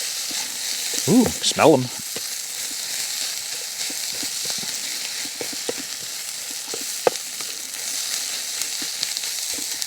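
Ground spices stirred into a pan of low-carb corned beef hash sizzle with a steady, close frying hiss throughout, while a voice speaks briefly near the start.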